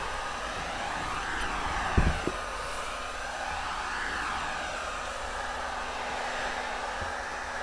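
A heat gun set on high, around 500 degrees, blows steadily while heating the edges of thermofoil cabinet panels, a constant close airy roar with a couple of brief knocks partway through.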